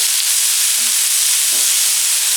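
Steady, loud sizzle of vegetable paella frying in a pan as halved grape tomatoes are stirred in, a broad continuous hiss with a couple of brief scraping touches of the spoon.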